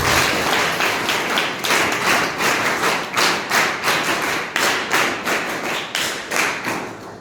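Audience applause for a guest at a school art-in-education program, a dense, fairly loud wash of many hands clapping in rhythmic surges, with no talk over it.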